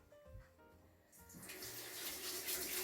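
Tap water starts running onto vegetables being washed, quiet handling noises at first, then a steady, close gush of flowing water that builds and continues to the end with no talking.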